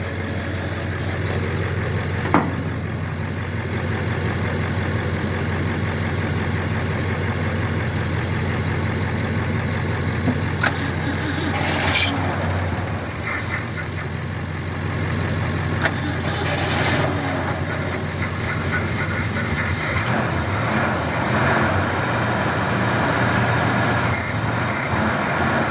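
A vehicle engine cold-starts and then idles steadily, a continuous loud rumble with a low drone lasting throughout, with occasional clanks and rubbing noises on top and no talking.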